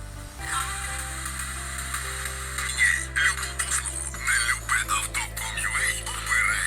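Steady hissing FM radio static from a small ESP32 Si4732 all-band receiver, with faint tonal whines and a low hum underneath, fluttering and crackling irregularly throughout, fairly close and moderately loud.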